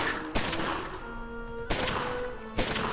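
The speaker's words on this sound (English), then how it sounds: "I shoot you, you fall down." Three sharp gunshots in the video game Omerta - City of Gangsters, evenly spaced over a few seconds, with a low tonal game hum between the shots.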